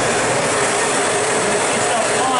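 A lift-away upright vacuum cleaner runs at full power, giving a loud, steady broadband whir with a faint rattling texture that continues unbroken throughout.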